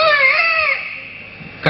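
A peacock gives a single wailing, harmonic cry that rises and bends before fading, followed by a short thump at the end.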